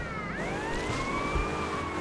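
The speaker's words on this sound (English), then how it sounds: "I'm just gonna leave the sirens on" A police car siren in Grand Theft Auto: Vice City wails continuously, its tone sweeping up and down, loud and steady over a low engine rumble with no voices.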